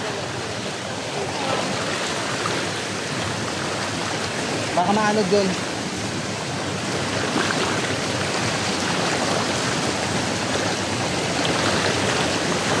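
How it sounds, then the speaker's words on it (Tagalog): A fast forest stream rushes loudly and continuously, a dense broadband roar of flowing water close by, with a person speaking briefly over it. "Ragasa kasi guys yung tubig."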